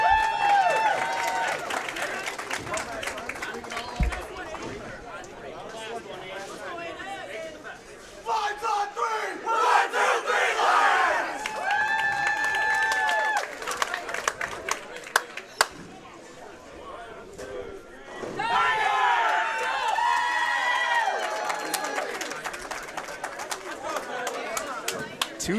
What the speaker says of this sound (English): Let's get loud and let's cheer on both of these teams contending for the championship match.